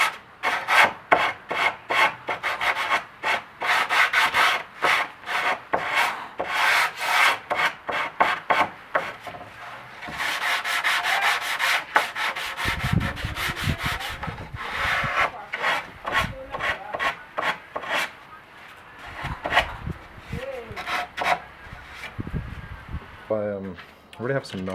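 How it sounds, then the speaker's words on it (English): Hand sanding of routed plywood edges for a sim pedal base, a rapid run of rasping back-and-forth strokes, close and loud, some pauses and faster bursts, with a few handling knocks near the end. "now I just need to sand a little bit to get rid of all these sharp edges"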